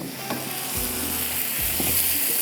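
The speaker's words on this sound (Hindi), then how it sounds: "ये बटर के साथ आपने इसको हल्का सा फ्राई कर लेना सारे मसाले के साथ।" A chicken methi kabab mixture fries in butter with spices in a pan, a steady close sizzle broken by a few low scraping stirs of a spoon, with no talk.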